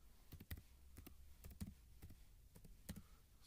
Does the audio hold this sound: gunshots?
no